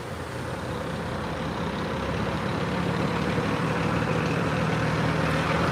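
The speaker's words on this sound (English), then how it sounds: "Oh, there is a bus actually." A bus engine idles nearby with a steady low rumble and constant drone, loud and unbroken throughout, with no voices over it.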